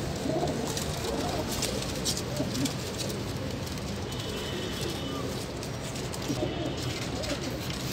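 Golden teddy pigeons coo softly amid a dense wash of outdoor noise and rustling, the low calls blending into the busy background.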